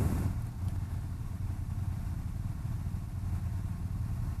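A BMW G310GS motorcycle engine drones steadily during a ride on a demo day, with a continuous low rumble and wind noise at an even level throughout.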